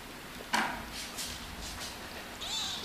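A skinny, underweight kitten gives a few thin, faint meows spaced out against a quiet room background, with a soft thump near the start.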